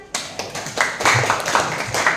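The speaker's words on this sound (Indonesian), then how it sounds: "Oke, tepuk tangan." Audience clapping hands in a classroom session on managing emotions, a burst of many claps building quickly and continuing at fairly loud level, close.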